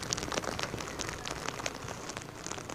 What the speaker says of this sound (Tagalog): malakas na hangin na sinasabayan ng pabugso-bugsong pag-ulan ang nararanasan natin dito sa Kasiguran sa Aurora